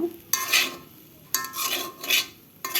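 Noodles with chopped tomato being stirred and fried in a pan, three scraping, sizzling strokes from a utensil with short quiet gaps between them, close and fairly loud.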